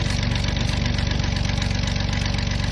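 A Toyota Land Cruiser 80 series engine runs with a loud, aggressive exhaust, a steady close-up rumble with a rapid pulsing throb and no talk over it.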